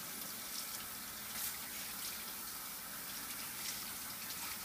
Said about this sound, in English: I'm going to rinse by keeping my hands down and in the sink but not touching the sink.